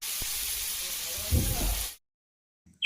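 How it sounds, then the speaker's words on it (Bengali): Teasel gourd (kakrol) slices frying in oil in a pan give a steady close sizzle with a brief stirring clatter, then cut off abruptly to silence. "তো কাঁকরোলটা ভাজা করব।"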